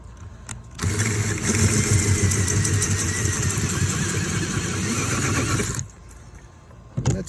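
A sharp drill bit bores into a bird feeder with one sustained motor whine lasting about five seconds, loud and close, followed by a few light clicks.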